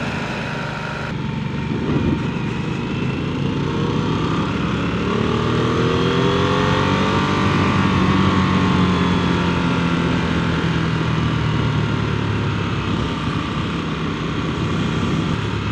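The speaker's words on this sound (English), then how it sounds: "So we'll see what a Harley engine that actually revs is like." Harley-Davidson Nightster V-twin motorcycle engine running close and loud, its pitch sweeping up and down as the throttle is worked.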